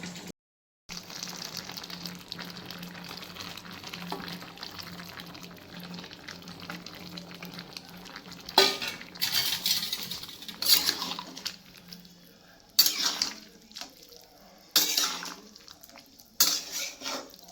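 Sukto curry, a Bengali vegetable dish with milk powder stirred in, is stirred gently in a pot, giving a quiet simmer broken by several sharp clinks and scrapes of a spoon against the metal.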